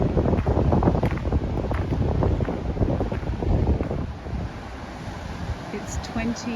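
Wind and surf on an ocean beach, with heavy wind buffeting the microphone and waves rumbling loudly for the first few seconds, then easing to a softer, steady wash.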